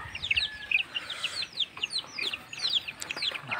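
Broiler chickens in a farm pen give frequent short clucks and chirps from several birds, overlapping in an uneven, busy chatter at close range over a low background rumble.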